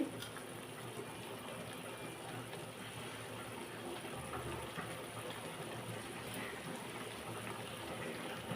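Water being poured into a cooking pot for a fish curry, a steady soft gushing stream running throughout, close and fairly quiet.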